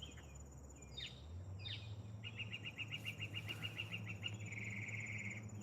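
A bird repeats a rapid run of bright chirps against a steady hum of night insects, fairly close and persistent.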